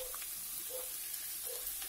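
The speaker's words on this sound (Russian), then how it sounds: "Отправляем на сковородку лук" Onion frying in a pan, a soft, steady sizzle heard faintly throughout with a few small clinks, no one speaking.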